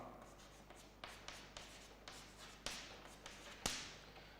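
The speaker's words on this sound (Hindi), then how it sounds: "अब सिमिलरली मैं एक और लिखता हूं" Marker or chalk writing during a chemistry lecture on reaction mechanisms, a series of about eight rhythmic scratchy strokes and taps about half a second apart, close and fairly quiet with no speech.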